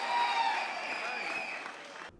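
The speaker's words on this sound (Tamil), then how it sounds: "அரங்கம் நிறைந்த கைத்தட்டல்." Hall-filling applause at a political party stage event in Tamil Nadu, a dense steady wash of clapping and crowd noise that holds loud for about two seconds and then cuts off abruptly.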